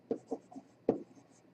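A few short scrubbing strokes erase writing on a board, quiet and close, with two main bursts and softer rubs between them.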